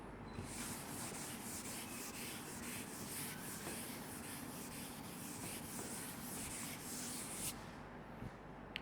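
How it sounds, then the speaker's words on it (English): Writing is rubbed off a classroom board in a steady, faint, close scrubbing sound with a rhythmic rasp that continues for several seconds before stopping. "I am going to rub this off and we are going to do the integration now."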